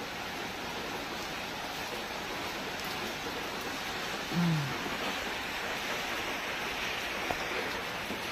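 Rain falls steadily outside, heard from inside a garage as a soft, even hiss with one brief louder bump midway.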